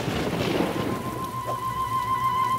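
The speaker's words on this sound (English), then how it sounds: "Starting to rain." Steady rain falls in a light, continuous hiss on a cartoon picnic scene, with a faint sustained tone running through it, no voices.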